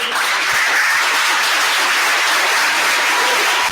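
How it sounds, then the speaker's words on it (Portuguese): A church congregation applauds in a dense, sustained wash of clapping that fills the whole clip at steady loudness, with no break. "Aplaudam Jesus."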